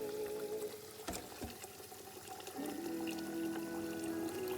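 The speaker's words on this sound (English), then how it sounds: "Cover with hot water from the tap." Hot water from a kitchen tap runs over rinsed rice, a steady, fairly quiet rushing pour whose pitch shifts partway through as the level changes.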